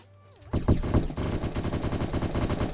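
Rapid automatic gunfire in the online survival game Apocalypse Rising 2, a loud continuous burst of shots following a short quiet stretch and running on steadily to the end.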